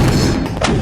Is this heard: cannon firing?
yes